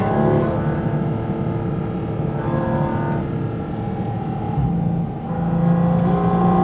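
Porsche sports car accelerating hard, its engine a loud, continuous rumbling roar that holds steady throughout, heard close up with no talk.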